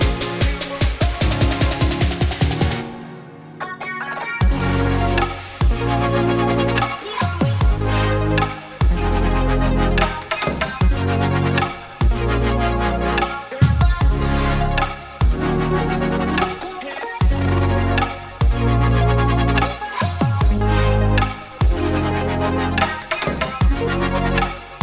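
A future bass track at 150 BPM built in FL Studio plays continuously and loud, with heavy kicks, pumping full-band synth chords and a brief drop-out near the start, with no talking.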